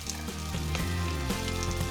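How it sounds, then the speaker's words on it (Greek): Steady sizzling and crackling of bread cubes frying in a pan, continuous and close, with a few soft clinks of stirring. "Και τώρα θα τηγανιστούν λίγο αυτά για να γίνουν τραγανά."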